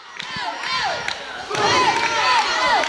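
A wrestling crowd at a small televised show cheers and whoops continuously, many voices overlapping with rising shouts, swelling louder halfway through and staying full to the end.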